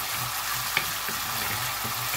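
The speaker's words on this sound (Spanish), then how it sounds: "Vamos a sofreír un poco el pimiento." Green pepper sautéing in hot garlic oil in a pan, a steady close sizzle with a few light utensil clicks and stirring scrapes, no voices.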